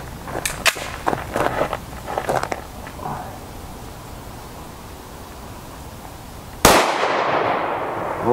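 A 5.7x28mm round is fired into an armor panel set in front of clear ballistic gel, giving one sharp, loud crack after a few faint clicks and handling noises.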